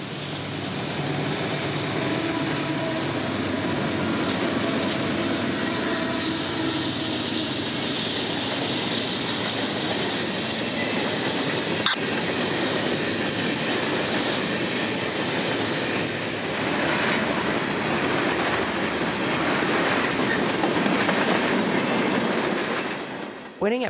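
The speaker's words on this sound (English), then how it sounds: "M603 comes around the bend at Callahan with a trainload of merchandise for Lakeland, with YN2 AC44 in charge" Freight train M603 with a YN2 AC44 locomotive in charge, hauling merchandise around a bend at Callahan, a loud sustained roar of engine and rolling cars with rhythmic clickety-clack and faint wheel squeal, close by and fading at the end.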